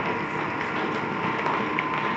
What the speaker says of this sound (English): Oreck Orbiter, and this is the Challenger pad driver with a 14-inch Challenger pad.